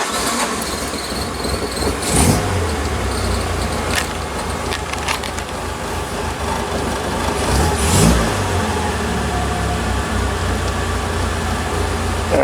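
Warmed-up car engine, carburetors recently swapped and new starter fitted, running steadily close by with a couple of revs rising and falling around two and eight seconds, no talk over it.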